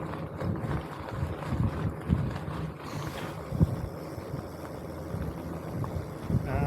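Wind rushes over the microphone while someone cycles along a canal towpath, a steady rumbling buffet with gusty swells and a hissy high-end wash.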